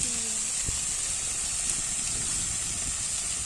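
Prawns frying in hot oil until reddish, a steady bright sizzling hiss throughout with faint low clatter underneath, close and even in level.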